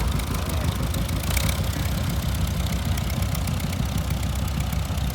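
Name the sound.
John Deere Model GW tractor engine running in parade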